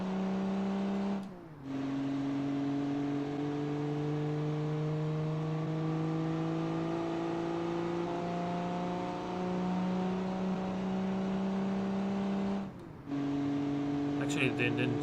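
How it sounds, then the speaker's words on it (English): A car built in Automation and driven in BeamNG, its engine holding a loud, steady droning note that climbs slowly, with two brief gearshift dips near the start and end and a voice talking over it. "The engine sound is really unique."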